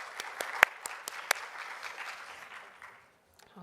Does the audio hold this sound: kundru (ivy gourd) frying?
no